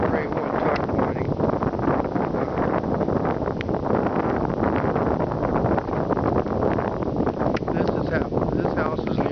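Wind roars steadily against the microphone outside a brick house under restoration, a loud continuous rush with someone talking over it.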